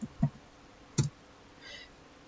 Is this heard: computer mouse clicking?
yes